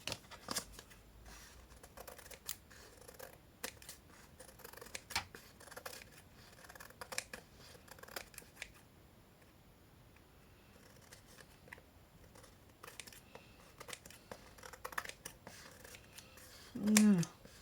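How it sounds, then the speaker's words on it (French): Scissors trimming card stock for a boy's handmade birthday card: many sharp, close snips in an irregular rhythm, with quiet gaps between cuts and a brief voice near the end. "On va recouper au ciseau"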